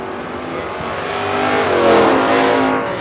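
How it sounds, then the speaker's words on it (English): A 1971 Datsun Z-Car fitted with a 327 engine roars loudly down the drag strip, a continuous dense engine howl that builds toward the middle and stays strong, with no voices over it. "Sponsoring that 71 Datsun Z-Car with a 327 in it."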